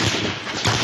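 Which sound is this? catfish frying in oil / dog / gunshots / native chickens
gunshots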